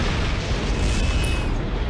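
Quantum torpedoes exploding in the Star Trek Bridge Commander space combat game, heard as a sustained, loud, rumbling blast with no speech over it.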